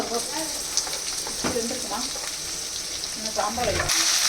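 Grated coconut and other chutney ingredients sizzle and fry in a hot pan, with soft stirring scrapes and a steady crackle, at close range.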